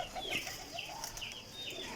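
A pigeon held in the hand gives faint, quick wing flutters and soft whistling, brief and quiet against a still background.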